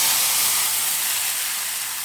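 Vadagam frying in hot oil for a traditional paruppu urundai kuzhambu, a steady loud hiss of sizzling that holds evenly throughout.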